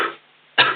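A single short, rough cough or throat-clearing bursts out twice from someone with a cold, close to the microphone, with a quiet gap between.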